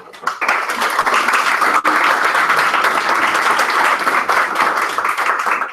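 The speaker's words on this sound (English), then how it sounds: "We have a round of applause" An audience at a tech conference in Guadalajara gives a loud, sustained round of applause, with dense clapping that holds steady throughout.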